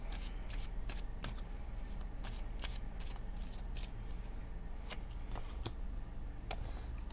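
Tarot cards are shuffled close up in a quiet room, quick riffling bursts repeating at a steady, uneven rhythm over faint background hiss.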